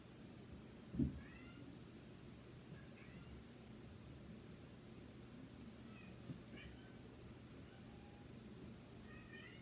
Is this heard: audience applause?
no